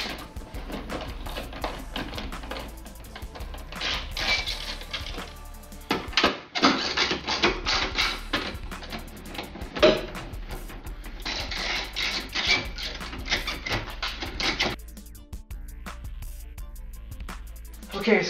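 Bolts on top of the headlights of an 8th generation Honda Civic are loosened with a wrench, giving repeated close ratcheting and scraping bursts in uneven runs with brief pauses between.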